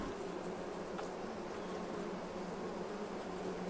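Bees drone around their beehives in a steady, unbroken buzz, fairly soft and even throughout, with no voices.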